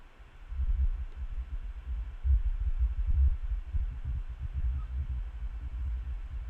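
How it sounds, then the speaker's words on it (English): A deep, steady low-frequency rumble from the Tritik Krush audio plugin swells and throbs continuously, dense and droning with no voices present. "as we start bringing it up, you can start to hear that rumble"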